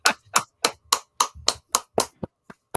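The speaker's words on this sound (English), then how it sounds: "Slow clap. Slow clap." A slow, steady clap, about ten sharp hand claps evenly spaced, loud and close, the last few softer.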